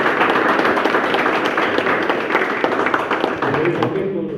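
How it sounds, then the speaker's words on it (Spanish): Group at an MMA training session clapping in a dense, continuous burst of applause. The clapping is fairly loud, mixed with some voices, and tapers off at the end. "un aplauso para ustedes, por favor."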